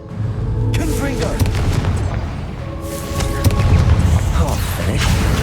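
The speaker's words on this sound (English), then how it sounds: "Confringo!" The Confringo blast spell in Hogwarts Legacy, fired during a Percival Rackham trial, erupts in heavy booming explosions, loud and close, repeating over a sustained tonal game soundtrack.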